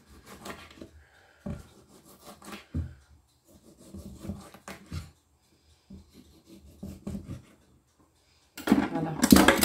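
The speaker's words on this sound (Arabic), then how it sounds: "نقص الطماطم روندليت روندليت" A knife cuts tomatoes into round slices on a board, giving a series of soft, scattered chopping and rasping strokes up close, ending in a louder burst of handling noise.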